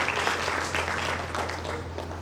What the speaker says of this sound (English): Can you clap for members of Napa?